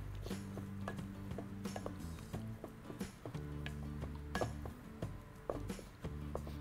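A spoon scrapes and clinks against a pan while mutter paneer curry is mixed, giving a run of quiet, irregular metallic taps and stirring sounds close by, with no one speaking.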